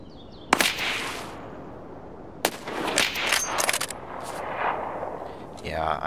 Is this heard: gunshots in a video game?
yes